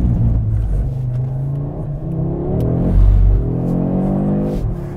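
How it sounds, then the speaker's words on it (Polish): An Audi RS3 with Haldex-based all-wheel drive accelerates hard, its engine note climbing loudly and close in rising sweeps, dipping briefly between gear changes and pulling up again. "I teraz zobaczcie, co potrafi Audi RS3, które ma napęd skonstruowany na Haldexie."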